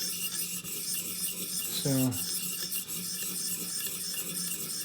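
A Benchmade Mini Adamas knife blade is sharpened on a 400 grit stone, making a continuous gritty rasp of steel on stone, with one brief spoken word.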